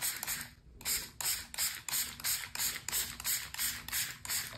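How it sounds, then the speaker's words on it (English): A hand spray bottle mists liquid watercolor onto paper in a quick run of about a dozen rhythmic squirts, each a close, hissy burst with short gaps between, with no voices. "and then we'll just spray them."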